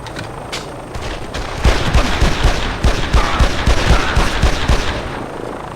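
Loud gunfire from the PS2 game Made Man, with rapid bursts of shots cracking in quick succession and growing denser and louder midway, no speech.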